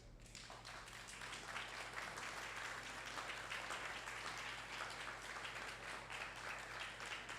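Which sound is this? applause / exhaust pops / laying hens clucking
applause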